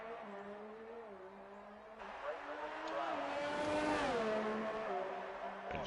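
A Formula 1 car in the video game F1 2019 drives at around 300 km/h on a US race circuit. The engine's steady high whine climbs in pitch and loudness as it accelerates, then eases off.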